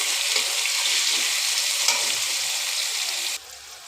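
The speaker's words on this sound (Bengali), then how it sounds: "এবার গাজর আলুটা ছেড়ে দেবো। দিয়ে হালকা করে নাড়াচাড়া করে নিলাম।" Carrot and potato frying in a pan and being gently stirred, a loud, steady close sizzle with faint scraping, continuous with no voices.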